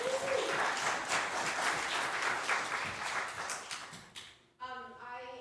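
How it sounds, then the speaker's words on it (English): A congregation at a Sunday service gives a full round of applause, loud and dense for about four seconds before fading out, then a voice starts speaking. "give yourself a round of applause"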